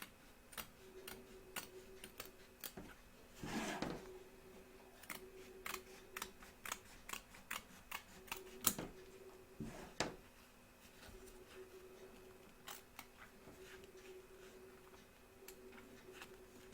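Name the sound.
scissors trimming excess fabric from embroidery hoop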